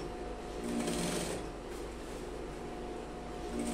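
Sewing machine stitching along a trouser hem, a steady, fairly quiet mechanical whir with fine rapid needle ticking that runs continuously, slightly swelling in the first second, heard close with no talking.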